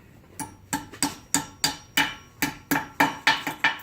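A normal hammer taps U-joint retainer clips into place on a 1996 Chevy Blazer, about a dozen sharp metallic strikes in a steady rhythm, close and loud with no talking.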